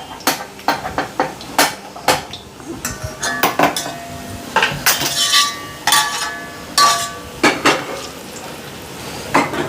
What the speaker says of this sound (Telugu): ఆనియన్స్ ఫ్రై అయిపోయినాయి, తీసేస్తున్నా.